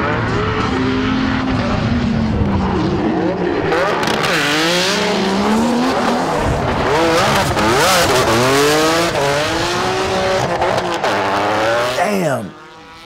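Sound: Nissan S15 drift car engine and tire squeal

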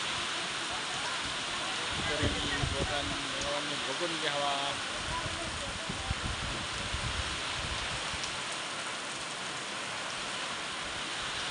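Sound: first rain of the season falling

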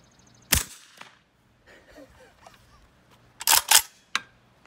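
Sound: suppressed 5.45x39mm rifle shots, Dead Air Sandman K suppressor

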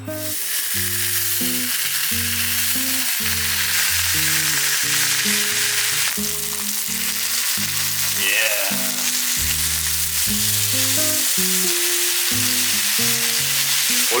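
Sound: pork belly (samgyeopsal) sizzling on the grill

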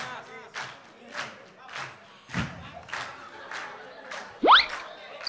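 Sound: audience clapping along to a song

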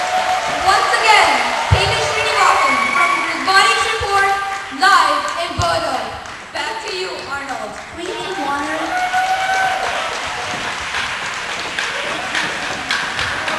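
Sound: audience applause and cheering for the risbotics team

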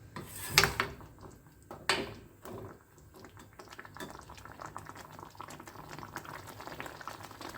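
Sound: mango sambar boiling in a pot

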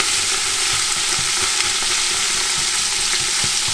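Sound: root vegetables frying with tomato paste in a pot

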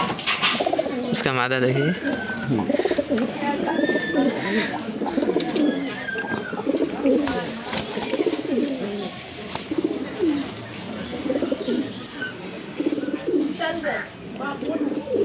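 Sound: pigeons cooing

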